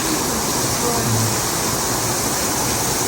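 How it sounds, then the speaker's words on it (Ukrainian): Steady, loud rush of falling water, a broad continuous roar with no breaks, close by. "Це реальний водоспад."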